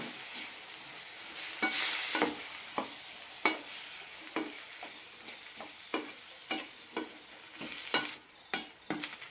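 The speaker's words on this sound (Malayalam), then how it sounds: "നന്നായി വഴറ്റാം ഹൈ ഫ്ലെയിമിൽ തന്നെ വഴറ്റിയെടുക്കാം" Tomatoes with salt stir-fried in a pan over a high flame for a tomato curry, a steady sizzle broken by repeated sharp scrapes and clinks of a spoon at a fairly even rhythm, close and clear with no talking.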